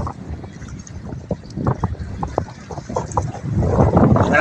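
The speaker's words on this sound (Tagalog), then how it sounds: "malakas ang hangin, lalo na yung makikita mo yung alon ng tubig" Strong wind gusting over open water at the Laguna de Bay baywalk in Calamba, with buffeting microphone noise and lapping waves that grow louder toward the end.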